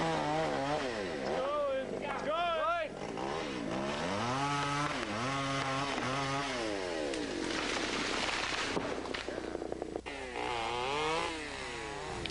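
A nearby chainsaw felling and bucking trees and heavy brush for wildfire line clearing revs repeatedly, its engine whine climbing and dropping in bursts as it bites through wood, loud and continuous.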